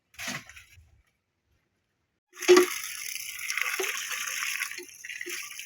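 Water pours into a pan of peeled potatoes being readied for cooking, a gushing splash starting after a short silence and running steadily for a few seconds with small clinks, preceded by a faint brief voice.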